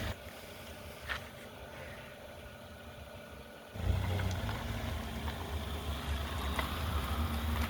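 A vehicle engine idles quietly, then rises to a louder, steady medium hum as it reverses, continuing close by with no talking.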